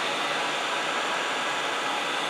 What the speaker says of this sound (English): it's basically just like a hairdryer, but I'm just going to try and heat up the adhesive